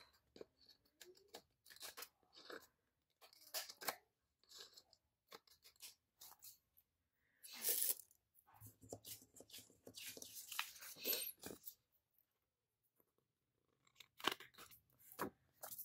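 Scissors trim paper in a planner spread: a quiet, close series of short snips and paper rustles, scattered and irregular, in an otherwise silent room.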